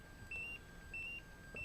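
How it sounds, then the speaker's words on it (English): An MSA gas detector in alarm mode sounds three shrill electronic beeps in a regular pulsing rhythm, close and fairly loud over a low background hum, with no talking. "The detector will stay in alarm mode until you tell it to go out of alarm mode."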